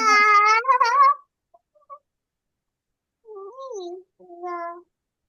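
A voice imitates a cat, giving a loud drawn-out meow followed after a pause by two softer, higher meows.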